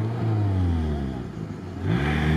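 A Lada Niva's engine revs and strains loudly while driving off-road in sand, its pitch sliding down then surging up again as it accelerates, close by.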